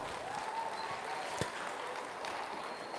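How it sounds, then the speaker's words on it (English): An audience at a 4-H county fair pig show, after a class of feeder hogs, gives faint, distant applause, a soft steady patter of clapping with a single sharper clap standing out. "Let's give all these exhibitors here in this first class of feeder hogs a big round of applause."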